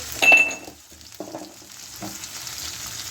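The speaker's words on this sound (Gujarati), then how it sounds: "10 મિનિટ તેને આવી રીતના ફેરવતું રહેવાનું છે" Okra is stirred and fried in a pan with salt and turmeric, giving a steady close sizzle broken by a few scraping stirring strokes, with no talking.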